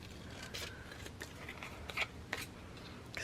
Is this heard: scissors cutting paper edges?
yes